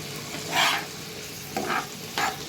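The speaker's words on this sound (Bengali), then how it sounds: "আমি এটা ভাজি করছি।" Food fries in a pan over a steady sizzle, broken by three separate bursts of stirring and scraping, close and clear with no talking.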